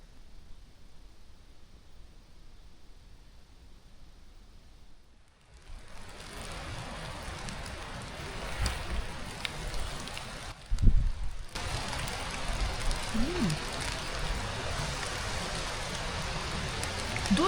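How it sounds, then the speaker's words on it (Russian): After a quiet start, rain suddenly swells into a dense steady hiss with gusts of wind, a brief bump and some faint drips, heard from inside a dugout shelter in the mountains. "Дождь, ветер и дождь."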